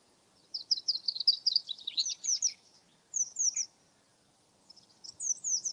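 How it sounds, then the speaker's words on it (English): Bright, high chirping birdsong in quick trilling bursts outdoors near Brampton Old Church, with a pause before a short phrase and then another burst near the end; no voices. "Birds everywhere."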